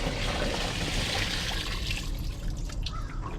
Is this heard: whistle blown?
no